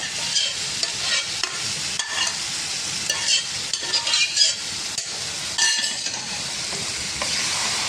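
A spoon stirs beef curry with bones in a hot pan, wet scraping and sizzling with occasional metallic clinks against the pan, continuous and close, with no talking.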